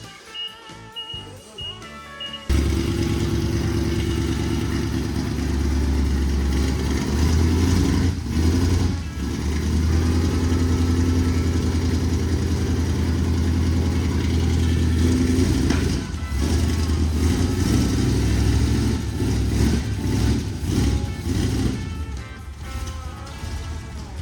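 A neglected Plymouth Barracuda engine with no choke, running on ruined, stale gas, catches and settles into a loud, steady, rough rumble up close, with uneven surges and dips throughout.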